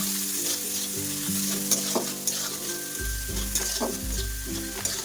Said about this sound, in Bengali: ভালো করে ভেজে নিতে হবে এগুলো সাথে।